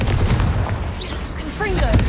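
A Confringo blasting spell fired in Hogwarts Legacy, a loud booming burst with crackling tail over a busy game soundscape, with a voice briefly audible alongside.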